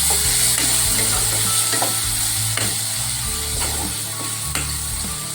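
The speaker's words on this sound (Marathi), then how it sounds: "पण छान मिक्स करून घेतो मी" Spicy masala being stirred in a hot pan, a spoon scraping and knocking against the metal in a steady rhythm over a continuous sizzle, close and fairly loud, with no talking.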